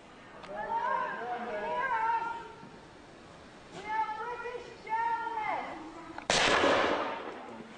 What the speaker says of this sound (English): There's a shot from the APC.